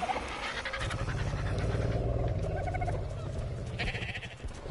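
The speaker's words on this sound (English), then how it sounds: "Oh, we do have a sheep!" A sheep bleats in Ark: Survival Evolved, repeated wavering bleats heard close under excited talk and laughter from players.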